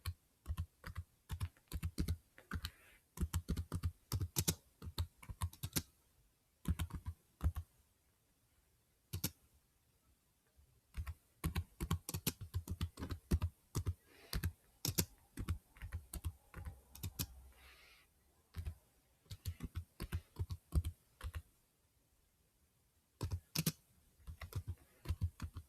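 Close typing on a computer keyboard comes in bursts of rapid clicking keystrokes, with short pauses between runs of words, and no voices over it.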